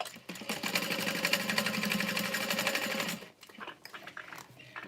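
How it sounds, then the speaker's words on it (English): Sewing machine stitching layered leather bag pieces, a steady fast mechanical chatter running continuously for about three seconds before stopping, followed by quieter handling noises. "I'm going to sew next to that 8-inch mark, basically basting all of this together"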